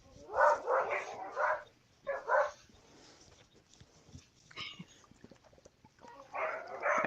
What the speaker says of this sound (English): I guess the dogs decided they need to bark at him.